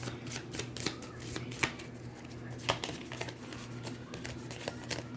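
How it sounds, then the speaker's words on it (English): Cards from an Aeons End deck are shuffled by hand at close range, giving repeated crisp riffling and snapping bursts at an irregular rhythm over a low steady background hum, with no speech. "it's really hard to predict once you start shuffling"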